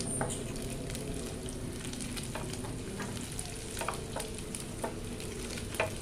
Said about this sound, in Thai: ทอดกุ้งเสร็จแล้วแล้วก็ตามด้วยพริกแห้งทอดค่ะ